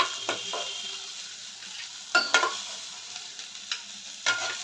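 Chopped garlic frying in a pan for Patiala chicken, a steady hiss of sizzling oil broken by a few sharp scraping stirs of a spoon against the pan.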